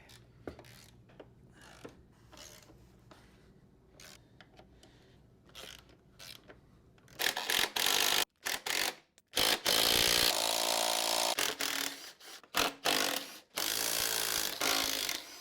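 A ratchet breaks tight bolts loose on a Suzuki GS850 motorcycle, with scattered faint clicks at first, then loud bursts of rapid ratcheting close up.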